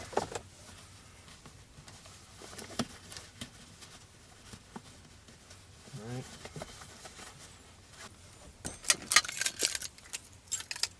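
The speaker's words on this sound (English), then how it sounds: "Take something flat, you can just take keys," Car keys jangle and clink in a vehicle interior while working on a shift boot, a faint metallic rattle near the end with soft handling noises and quiet speech around it.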